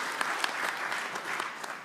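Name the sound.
audience applause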